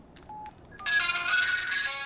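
A telephone is dialed for a call: a couple of short keypad beeps, then a louder, sustained tonal burst. No one speaks.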